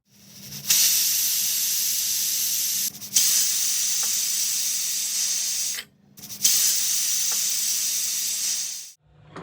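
A pressure cooker boiling Malabar spinach stalks vents steam in long, loud, steady hisses, three bursts broken by short pauses, with a low hum beneath and no talking.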